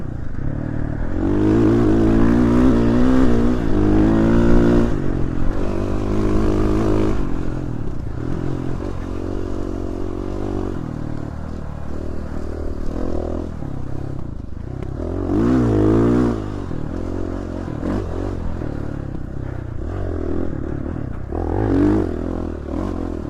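Dirt bike engine in the desert, revving and droning steadily with rising and falling pitch surges, loud and close throughout with no talk.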